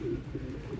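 Low, soft pigeon coos murmur through a steady background, a brief rounded burble repeating across the short stretch.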